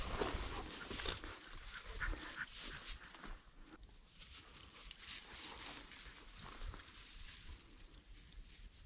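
A hunting dog in the field during pheasant wing-shooting whimpers and whines in repeated short, high cries, fairly close, over rustling outdoor background.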